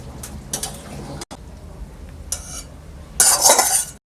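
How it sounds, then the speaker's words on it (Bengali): Egg curry with chopped coriander leaves being stirred in a pot, with several scraping and clinking bursts of a utensil against the metal, the last one loudest, separated by brief pauses. "একটু ভালো করে নেড়ে নিয়ে নামিয়ে দেবো।"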